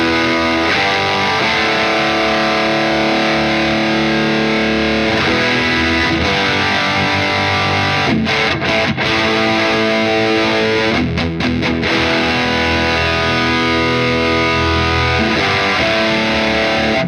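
Heavily distorted electric guitar through a high-gain Wampler drive pedal with the bass control pulled all the way out, playing sustained chords and riffs steadily and loudly for the whole stretch, with no talking.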